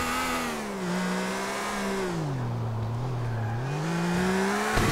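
Car driving fast in the video game GTA IV, a steady engine drone that rises and falls in pitch as it accelerates and eases off, continuous and fairly prominent.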